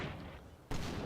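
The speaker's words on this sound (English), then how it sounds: "So is this mortar going to start? 2-inch mortar." A British 2-inch mortar fires in Combat Mission's Market Garden setting: after a low rumbling lull, one abrupt, loud broadband report sets off a sustained roar.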